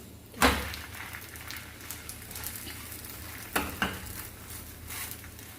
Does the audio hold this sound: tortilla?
yes